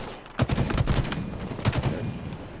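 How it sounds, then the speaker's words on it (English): Enemy gunfire in a first-person shooter, rapid bursts of repeated shots that rattle together into a dense volley, loud and fairly close, with echoes trailing between the bursts. "There's a guy in front of you shooting at you that you're aware of, and you're reloading"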